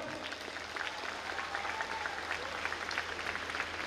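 An audience at a college graduation ceremony claps in a soft, continuous patter of many hands, fairly distant and faint, without a distinct voice over it.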